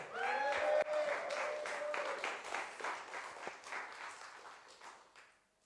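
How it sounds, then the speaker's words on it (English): A poetry slam crowd at a summer street festival gives a round of applause for poet Pauline May, loud and dense at first, then thinning out and fading to near silence, with a voice briefly audible early on. "can we give a round of applause for Pauline May?"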